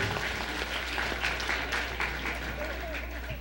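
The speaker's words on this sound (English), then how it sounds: "let's give them all a nice round of applause" An audience's round of applause for contestants at a live televised pageant, a steady broadband patter with a low electrical hum underneath and faint crowd voices mixed in.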